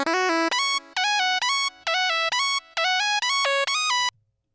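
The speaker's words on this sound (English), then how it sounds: "This is the Crimpet lead from the Tumphy Butter Sound Kit or Serum Bank" Bright synth lead (the Crimpet preset from the Tumphy Butter Serum bank) plays a bouncy, rhythmic melody of short repeated note bursts in a loud, upfront pattern, ending abruptly with a brief faint tail.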